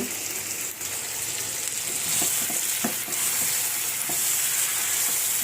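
Tomato curry sautés in a pan with a steady bright sizzle, broken by occasional scraping knocks of a spoon stirring through the mixture, close and continuous with no one speaking.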